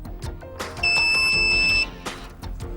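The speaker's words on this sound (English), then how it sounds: "press Start-Stop, which is accompanied by a longer beeping sound." The Viofor JPS therapy device gives a long, steady electronic beep when Start-Stop is pressed. It is a single sustained tone of about a second, loud and close, set against quieter background handling noise.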